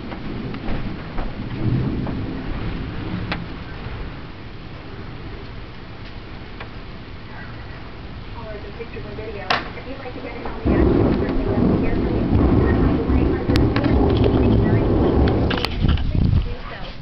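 A thunderstorm with steady rain throughout, sharp crackles and rumbling thunder that swells louder in the second half, heard close and continuous.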